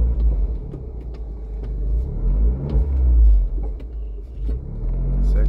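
An Abarth 595C Turismo drives with its roof open, its engine and four-pipe exhaust giving a loud low rumble that swells as it accelerates, with the wind of the open top heard around it.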